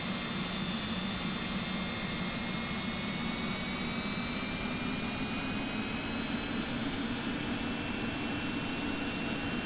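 Simulated MD-80 jet engines spool up for takeoff in a flight simulator, producing a constant broadband roar with a steadily rising whine that continues throughout.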